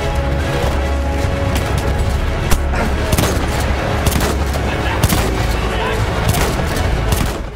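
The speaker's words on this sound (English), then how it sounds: "I just hit him with a grenade" Battlefield 1 combat in a video game, with a grenade blast and sustained gunfire: dense, loud rattling bursts and booms in close succession, with shouting voices mixed in.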